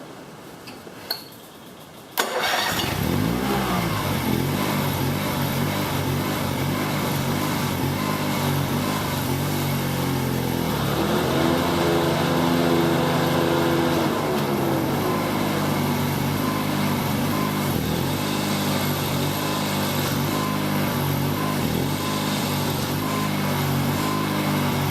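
Honda HT3813 lawn tractor engine starts with choke set, a sharp onset after about two seconds of quiet, then runs at a steady loud idle with a ticking rhythm, close by and alone.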